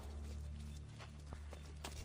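Horse hooves clip-clop steadily through a Renaissance Italian setting in the video game Assassin's Creed II, a close, continuous trotting rhythm over a low droning game score.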